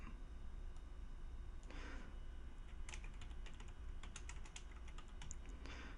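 Soft keystrokes tap on a computer keyboard while anchor text for a hyperlink goes into an HTML editor's source view, scattered quiet clicks in short bursts over a steady low background hiss, with no voices.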